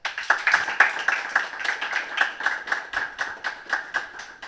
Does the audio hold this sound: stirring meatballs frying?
no